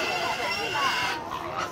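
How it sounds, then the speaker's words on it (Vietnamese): Pigs squeal loudly and continuously at a busy livestock market in northwest Vietnam, a dense, shrill chorus close by that fills the whole stretch with steady noise. "Lợn kêu to quá."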